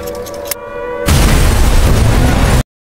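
A bomb blast in a war film about soldiers and anarchists: a loud, sustained roaring boom bursts in after a brief tonal lead-in, rumbling heavily for about a second and a half before cutting off abruptly to silence.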